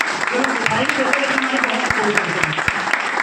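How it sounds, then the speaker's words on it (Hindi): A crowd applauds with dense, steady clapping that fills the room, a few sharper claps standing out, continuing without pause. "तो एक बार जोरदार ताली हो जाए"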